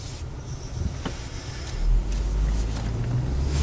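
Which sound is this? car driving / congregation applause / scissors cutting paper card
car driving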